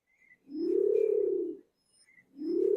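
A Nicobar pigeon gives two deep, drawn-out hooting coos, each lasting about a second with a gap between them, clear and close against a quiet background with faint distant chirps.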